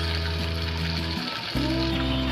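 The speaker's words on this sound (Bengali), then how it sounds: "হাই ফ্লেমে ভাজছি। গ্যাস সিম করে ভাজলে অসুবিধা আছে।" Semolina rasbora sweets deep-fry in oil over a high gas flame, giving a loud, continuous bubbling sizzle close by, with a steady droning hum running underneath.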